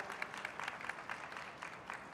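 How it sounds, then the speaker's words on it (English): A panel audience at an AI for development event gives a sparse round of applause, quiet and somewhat distant, with individual claps pulsing unevenly over a short stretch. "A big round of applause for them."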